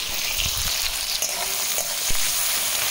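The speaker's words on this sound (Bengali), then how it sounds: "আলু শাকগুলো ভেজে নেব" Potato greens sizzle steadily in hot oil in a home kitchen on Christmas Eve, a loud continuous hiss with a few soft stirring knocks.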